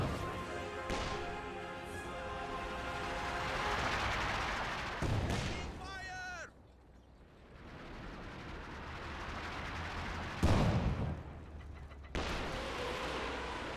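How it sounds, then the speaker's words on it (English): Heavy rumbling explosions and booming impacts from a Katyusha rocket barrage in Company of Heroes 2, a sustained roar with sharp louder blasts and whistling streaks, with a commentator talking over it. "Katusha Barrage running on in."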